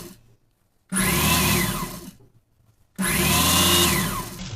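Electric sewing machine stitching a folded fabric loop on a pinafore, two loud sustained runs of whirring motor and rapid needle clatter separated by a short quiet pause, close to the listener.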